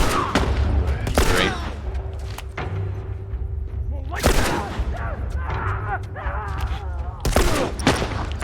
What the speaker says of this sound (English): Watch what happens if I try to take them out with my gun first.